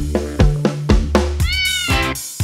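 A person imitates a cat, giving a series of short meows followed by a longer, drawn-out whiny meow.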